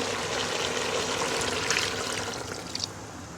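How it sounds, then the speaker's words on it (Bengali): Water is poured into a pan of frying katla fish for curry, a close, continuous rushing splash with the sizzle beneath it, tapering slightly toward the end. "ঝোলের পানি দিয়ে দিব।"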